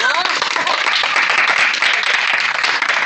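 A village audience in Banmalipur, Odisha claps in a steady, dense patter for about three seconds, with voices talking over the applause throughout.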